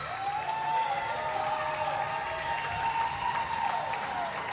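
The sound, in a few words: ringette fans cheering in arena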